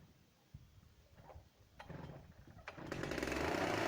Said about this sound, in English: let's get this chainsaw fired up